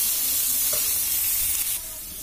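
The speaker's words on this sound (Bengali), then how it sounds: "তো পেঁয়াজটা ভালো করে লাল করে নেব প্রথমে" Onions frying in a pan for a small-fish curry, a steady close sizzle with stirring scrapes, settling slightly quieter near the end.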